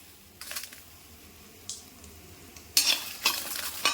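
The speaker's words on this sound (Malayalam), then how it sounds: "അതൊന്ന് വറക്കാം." Dried red chillies and onion frying in hot oil, a low steady sizzle with short bursts of stirring and crackle that grow louder toward the end, no talking.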